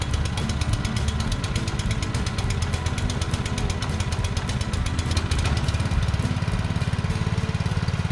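A Simpson pressure washer engine runs steadily up close after starting, a loud, even chugging drone throughout with no talk.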